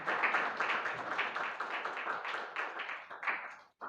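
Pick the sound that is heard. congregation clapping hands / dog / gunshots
congregation clapping hands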